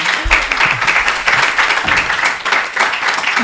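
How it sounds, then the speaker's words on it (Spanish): A crowd applauds Noelia García Pérez at a talk on art, power and gender in Murcia, with steady dense clapping throughout and a low tonal sound near the start. "Un aplauso para Noelia García Pérez, por favor."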